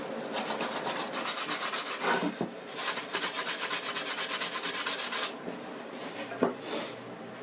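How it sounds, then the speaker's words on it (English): Pieces of wood being sanded by hand for a wooden bath tray, steady rhythmic back-and-forth rubbing strokes, close and fairly loud, with a couple of small knocks and no talking. "Sand every single piece of wood that you can"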